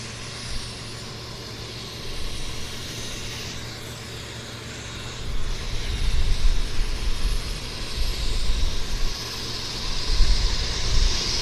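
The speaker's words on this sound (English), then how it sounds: "the Beech 1900 starting engines behind me, so it's going to get pretty noisy here in a few minutes" A Beech 1900 turboprop starts its engines at Vancouver Airport, a distant hum and whine that swells into a louder, rumbling roar over the latter half, with no talking.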